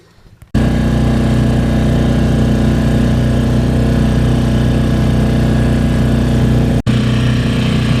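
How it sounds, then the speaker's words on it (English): A small sailboat's inboard engine, a Fantasie 19, runs steadily at a constant close, loud drone after starting up, with a brief dropout near the end. "We just switched the engine on."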